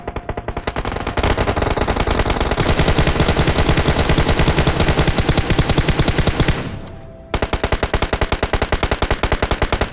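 Automatic gunfire in the video game PUBG Mobile, loud, rapid and evenly spaced in long sustained bursts. After a brief gap the firing starts again at the same fast rate.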